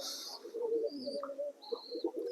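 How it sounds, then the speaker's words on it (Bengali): A pigeon on a house rooftop coos softly in low, rolling phrases, faint against a quiet outdoor background with a few thin chirps from other birds. "এই যে পায়রাটা আপনারা দেখছেন বর্তমানে স্ক্রিনে"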